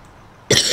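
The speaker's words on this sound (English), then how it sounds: "I'm a little sick. I'm coughing." A sudden, loud single cough bursts in after a stretch of near silence, close to the microphone from someone who is a little sick with allergies.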